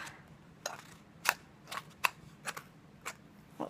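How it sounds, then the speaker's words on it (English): Scissors snip through the foil top of a Necrozma Pokemon card pack, several short crisp cuts spaced irregularly, close and fairly quiet with no talking. "So let's snip away the top."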